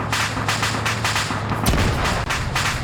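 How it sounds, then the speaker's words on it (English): Loud gunfire and a heavy blast erupt in a Cold War-era PvP military shooter match, with continuous dense shooting throughout and a sharp explosive burst near the middle. "Camrad just died in that explosion"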